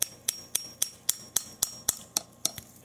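A hammer drives a metal spout into a maple tree, about ten sharp, evenly spaced taps in quick rhythm, close and loud with no talk.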